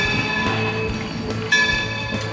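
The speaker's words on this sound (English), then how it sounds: "it looks like we're coming into the final destination for a train." Train pulling into Steamtown, with a steady rumbling roll, faint metallic wheel squeal and tonal hum, close and continuous with a brief bump partway through.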